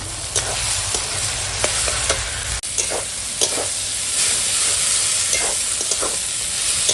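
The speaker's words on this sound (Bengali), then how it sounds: "এখন শুধু মাছটাকে একদম এইভাবে নেড়ে নেড়ে শুকনো করতে হবে" Bombay duck fish is stir-fried with spices in a hot pan, with a continuous close sizzle and repeated scraping clicks of a spatula turning the pieces, and no talk.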